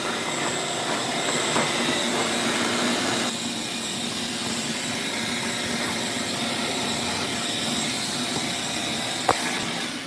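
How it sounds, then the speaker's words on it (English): A vacuum cleaner sucks up debris from drilling a bowling ball, giving a loud, steady roar that runs throughout with one brief knock near the end and no talking. "Let's vacuum it up."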